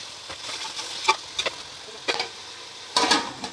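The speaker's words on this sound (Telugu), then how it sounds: "టమాటాలు అన్నీ బాగా ఫ్రై అయిన తర్వాత ఇప్పుడైతే మనకు చికెన్ యాడ్ చేసుకోవాలి." Chicken and salted tomatoes fry together in a pan for chicken curry, with soft sizzling and intermittent sharp spatula scrapes and clinks, close by and with no talk.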